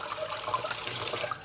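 Water pours slowly from a mug or bucket into a three-foot aquarium fish tank, giving a soft, steady splash and gurgle that is faint and continuous.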